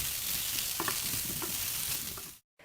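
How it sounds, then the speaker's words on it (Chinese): Asparagus stir-fried in a wok with oil and garlic slices, a steady broadband sizzle with a few brief stirring scrapes and clinks, close and continuous, cutting off abruptly near the end. "翻炒一下"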